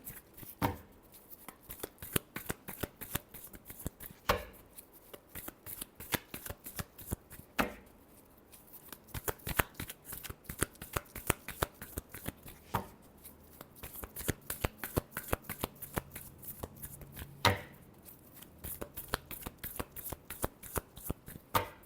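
Tarot cards are shuffled repeatedly at close range, a continuous rapid riffle of crisp flicks and taps with occasional louder slaps as the deck is squared.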